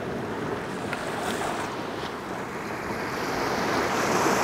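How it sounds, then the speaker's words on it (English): Waves wash and splash against rocks along a pristine St Helens beach, a steady broadband rush of surf mixed with wind buffeting the microphone, continuous and fairly close with no voices. "It's just splashing onto these rocks here."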